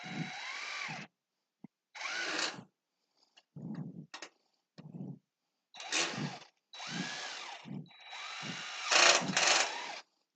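A power drill drives screws into a wall in a series of short whirring bursts that rise in pitch as each screw seats, with pauses between them, close and fairly quiet.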